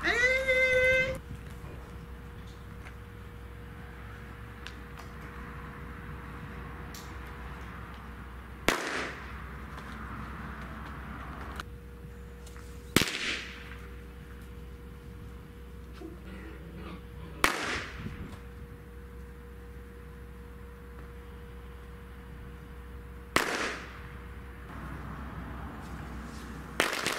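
Several sharp firecracker bangs go off one at a time at irregular intervals near six-week-old Czechoslovakian wolfdog puppies, each with a quick crack and short decay, over a steady low background hum.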